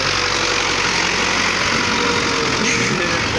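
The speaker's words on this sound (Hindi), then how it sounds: "ये है जनाब हमारा ट्रैक्टर" A tractor engine runs in a farm field being prepared for planting, a loud, steady, close mechanical roar with a constant low throb and no pauses.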